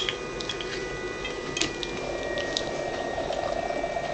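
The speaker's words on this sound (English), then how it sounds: "Got pretty good little bubble production." A KOH hydrogen electrolysis cell bubbles steadily as it runs, giving a soft, continuous fizzing hiss with faint ticking pops and a thin electrical whine underneath.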